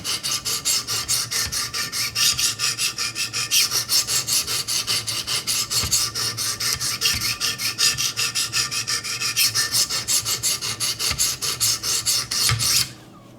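A Buck 110 knife blade is sharpened on a Wicked Edge sharpener with quick, rhythmic back-and-forth rasping strokes, loud and close, running steadily before stopping abruptly at the end.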